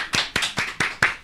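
Brisk applause greets guests arriving on a Korean political talk show: about six sharp, evenly spaced claps, close and distinct, with no voices.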